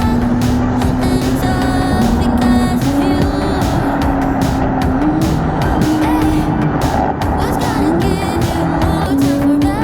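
Ferrari 458 GT3 Spider race car driving close and loud, engine note rising and shifting steadily through the gears, with occasional tire noise and no speech.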